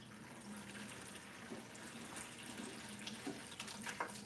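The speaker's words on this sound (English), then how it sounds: "we're just going to start the siphon tube and then just start taking water out" Aquarium water draining through a siphon tube during a planted freshwater tank water change, a steady soft trickle and splash of flowing water with a few small bubbling gurgles toward the end, no voices.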